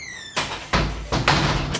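A door being forced open in a Brazilian home: several loud broadband scrapes and thuds, some with a brief squeak, follow a high whistling tone in quick bursts, with no talk.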